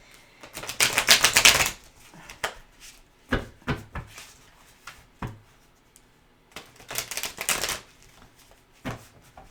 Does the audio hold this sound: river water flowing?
no